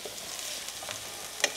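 Onions frying in a pan for a chicken curry, a soft, low sizzle with a faint stir or tap near the end, brief and quiet.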